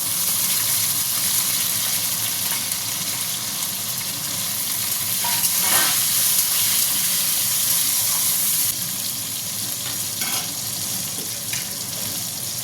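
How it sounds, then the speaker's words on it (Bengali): Potatoes fry in a pan, followed by tomato for a soybean dish. A dense, continuous sizzle runs close and loud throughout, broken by a few stirring scrapes and clatters, with no talk. "এবার আলুগুলো দিয়ে ভেজে নেব।"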